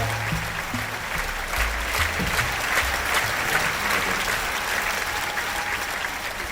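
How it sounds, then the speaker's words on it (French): Steady audience applause for a person named Esteban at a live event, a dense wash of clapping that holds at an even level for several seconds with no one talking over it. "applaudissez Esteban,"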